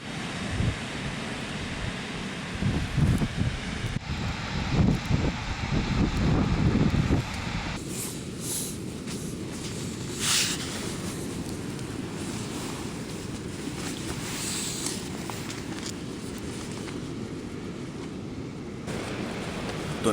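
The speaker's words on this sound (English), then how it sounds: "the waves are absolutely crashing down there and against the rocks" Sea waves crashing against rocks on a Hebridean coast, a continuous roaring surf with a heavier rumbling surge early on, then a steadier hiss and wash mixed with wind buffeting the microphone.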